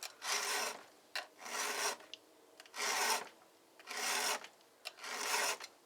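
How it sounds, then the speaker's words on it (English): A file rasps across a chainsaw chain being sharpened, five long, even strokes in a steady rhythm with short pauses and light clicks between them, close and fairly quiet. "I hate sharpening chainsaws because it takes so damn forever."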